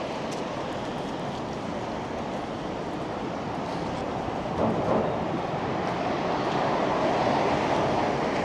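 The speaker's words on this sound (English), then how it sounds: "It is windy." Steady wind roars and buffets a microphone outdoors on a Toronto evening, with a dense low rumble throughout that swells slightly toward the end; no one speaks.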